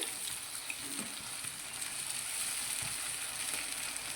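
Green peas and potatoes with tomatoes simmer in a pan, giving a steady, close sizzle and bubbling hiss that holds evenly throughout with no talk.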